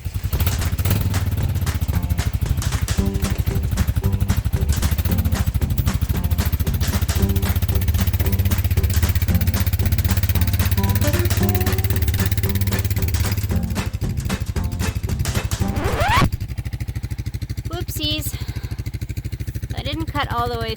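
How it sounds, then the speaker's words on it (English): An ATV engine drones loud and steady while hauling a freshly cut log during fall woodcutting, with clattering and revving throughout, then a rising whine before the engine drops to a lighter idle. "the ATV seems to be able to pull it anyways"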